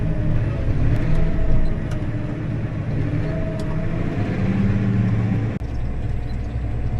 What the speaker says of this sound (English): Let's see how far I can get with this tractor.